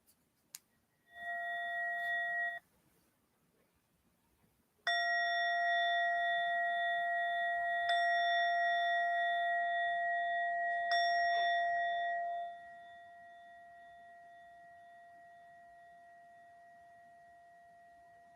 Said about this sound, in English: We'll start and end with 3 chimes.